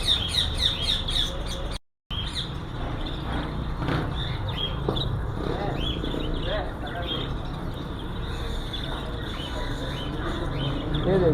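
Caged birds squawk and chirp in a bird shop, a dense, continuous chorus of calls close by with steady chatter from many cages, people talking over it throughout.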